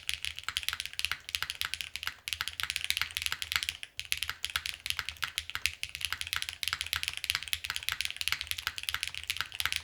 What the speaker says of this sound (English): I feel like the keyboard sounds extremely different now